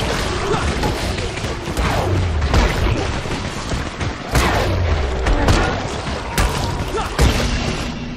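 Firecrackers in the Dying Light video game burst in a rapid, irregular string of loud pops and booms, several sharp cracks standing out over a dense crackling backdrop.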